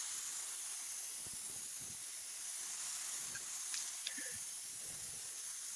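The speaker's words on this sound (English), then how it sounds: "Now we're applying our sealer. And this is a PPG sealer." PPG sealer sprays onto the body of a 1968 Charger R/T during a restoration paint job, a continuous faint airy hiss running steadily throughout with a couple of small clicks.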